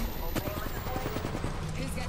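Rapid bursts of automatic gunfire crackle from an Apex Legends ranked match, repeated sharp shots over a steady game backdrop, with a player talking over the action.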